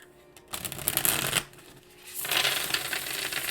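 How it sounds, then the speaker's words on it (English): Tarot cards are riffled and shuffled by hand in two close, crisp bursts of papery flutter separated by a brief pause, with no talking over them. "Let me give these a shuffle real quick."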